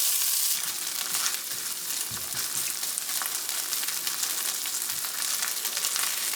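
Sausage fries in a pan with a steady, dense sizzle that holds at an even loudness throughout, with faint stirring scrapes underneath and no talking.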